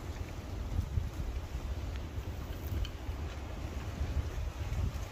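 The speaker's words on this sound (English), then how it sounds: "Don't help with this wind." Steady gusty wind buffets the microphone outdoors at an urban wild camp, a low continuous rumble with no voices.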